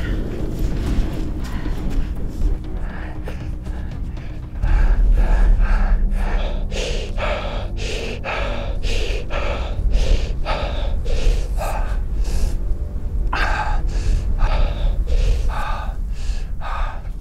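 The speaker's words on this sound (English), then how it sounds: "I can hardly breathe." Heavy, rhythmic gasping breaths from a person exhausted after hard physical exertion during a wilderness survival race, loud and close, repeating steadily with no talk.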